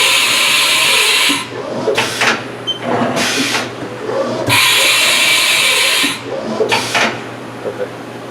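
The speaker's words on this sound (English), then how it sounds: "We'll go ahead and do a tool change." A Haas VF-4 CNC vertical machining center runs a tool change, giving loud, close bursts of hissing air and whirring mechanism separated by short pauses over a steady machine hum.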